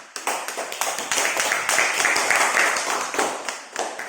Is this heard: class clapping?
yes